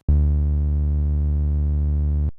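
A steady, low synth bass note with bent wavetable harmonics, buzzy and rich in overtones, holds for about two seconds and then cuts off.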